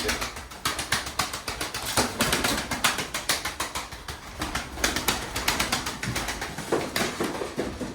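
Tumbler pigeons flapping close by, a steady run of sharp, rapid wing claps that continues throughout, loud and near.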